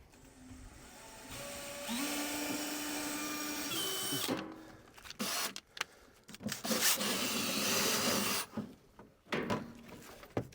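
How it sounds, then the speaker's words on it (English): A power drill whines at rising and falling pitch, then grinds and catches in bursts as it bites through metal panels of a corn head auger trough liner, close up. "So I'm going to drill the first hole in here"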